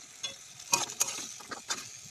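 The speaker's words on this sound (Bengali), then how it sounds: "এই দুটোই দেওয়া সঙ্গে ভাজা করে ধীরে ধীরে নেবো। দেখো বন্ধুরা একটু ভাজা করি।" Garlic, green chili and grated tomato fry and are stirred in a pan, giving short bursts of sizzling and scraping that come close and fairly loud, with no talk.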